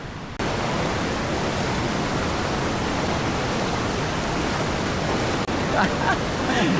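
Strong river current rushing near Kanapsan Falls, a steady loud broadband roar of flowing water that continues without a break through the whole stretch, with a brief dip near the end.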